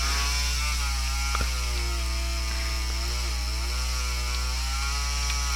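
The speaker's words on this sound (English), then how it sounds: "Now I have chainsaw sounds to go with my chainsaw getting chainsawed" Chainsaw running outside a room, a continuous buzzing drone with wavering pitch, steady and somewhat muffled, with a brief sharp knock partway through.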